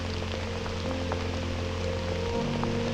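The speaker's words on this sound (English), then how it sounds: "it just won't stop raining" Steady rain falling on a creek's surface around a kayak, a dense continuous patter close by, with no talk and a low hum underneath.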